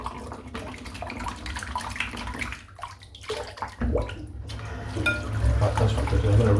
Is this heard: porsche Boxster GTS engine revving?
no